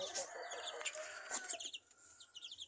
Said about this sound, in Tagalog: Ito naman yung mga sisiw niya, oh. malalaki na.